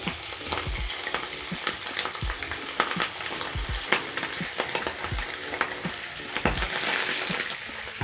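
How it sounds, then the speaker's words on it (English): Diced liver frying in oil in a pan, with a continuous crackling sizzle broken by sharp pops and the clatter of stirring, close and busy throughout with no talking. "So I'll add my liver into my pan."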